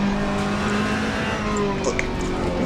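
Ferrari race car engine in Assetto Corsa, a steady loud drone held throughout with a brief tire squeal near the end, no talk.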